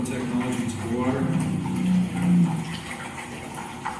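Water is stirred and aerated, a steady wash of splashing and swirling under a person talking throughout.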